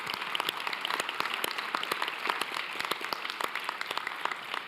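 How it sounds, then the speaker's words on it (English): An audience at an MLK celebration applauds singers, with dense, steady clapping from a crowd filling the room at moderate loudness. "I'd like a big round of applause for the singers of the Yes Club."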